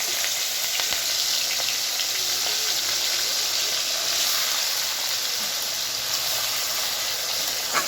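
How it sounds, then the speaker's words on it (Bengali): Prawns frying in oil left over from frying potatoes give a steady, dense hiss and sizzle that runs unbroken for several seconds, close up, with no one talking. "আলু ভাজা তেলের মধ্যেই এবার আমি চিংড়ি মাছগুলো ভেজে নেব"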